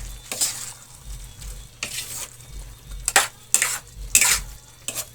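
Binagkat cooking in a pan is stirred with a utensil, giving several scraping, sizzling strokes at an uneven pace over a low steady hum.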